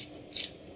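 Pepper mill grinding black pepper into a pot of chilli con carne, a single brief, quiet ratcheting crunch of one twist.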